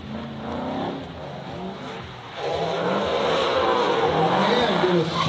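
At a drifting battle, a drift car's engine revs and builds into a sustained, rising roar with some tire noise, while a commentator talks over it.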